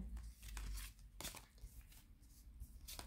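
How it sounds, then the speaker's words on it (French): Tarot cards are drawn from a deck, and the handling gives soft, close paper rustles and a few brief sliding and flicking sounds at a low level over a few seconds. "Allez, on va tirer 3 cartes."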